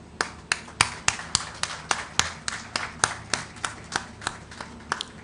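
Applause from an audience at the formal opening ceremony of a cancer centre and specialist hospital in Lagos, heard as a steady run of sharp, fairly close hand claps, about three per second, with no talk.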